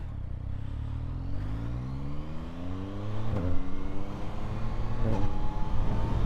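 A 2025 Yamaha MT-09 motorcycle with its 900 cc engine accelerates hard through the gears, its rising engine note climbing steadily and cut by two quick shifts, loud and close.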